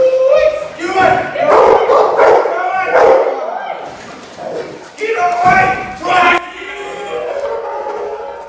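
Boerboel and Rhodesian Ridgeback dogs bark and yip loudly during home-invasion protection training, in bursts with thuds and bumps, while people shout and talk over them.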